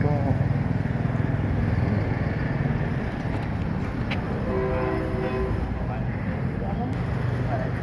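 A train rolling through the Mahachai market, a continuous loud rumble that carries through the whole stretch, with a short horn-like tone partway through and people talking under it.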